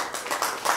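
Brief burst of audience applause at a board of education meeting, a room of people clapping together in a short, fairly loud patter lasting under a second.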